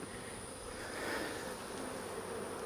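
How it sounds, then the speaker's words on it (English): Honeybees buzzing around an open hive during a hive merge, a steady, dense drone of many wings close by, swelling slightly midway, with no talking. "Goodness, lots of bees"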